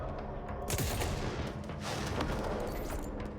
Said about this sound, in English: So it turns out, this is actually not a bad gun to snipe with.